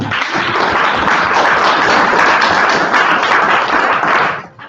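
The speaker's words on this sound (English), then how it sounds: "just applause for her" An audience applauds a speaker at a university lecture in a loud, dense burst of clapping that holds steady, then fades out toward the end.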